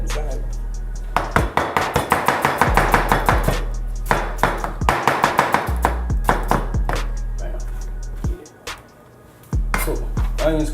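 Knife chopping onions on a cutting board in a home kitchen, rapid steady runs of sharp close chops broken by short pauses and a brief quiet gap near the end.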